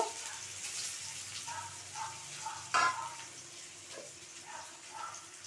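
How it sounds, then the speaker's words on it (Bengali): Onions sizzle and crackle softly frying in oil in a pan, with light stirring scrapes and a brief louder clatter midway. "তেলের মধ্যে এখানে আমি দিয়ে দিচ্ছি পেঁয়াজ বেরেস্তা, মানে পেঁয়াজটা ভাজার জন্য"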